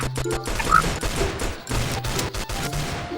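Rapid gunfire from a shooter video game, dense bursts of shots crackling in quick succession over busy in-game sounds, with a brief pause midway before the firing resumes.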